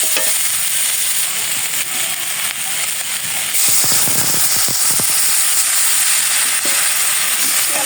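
A curry with chili powder is sautéed in a pan, giving a loud, continuous sizzle with bursts of scraping and clattering stirring partway through.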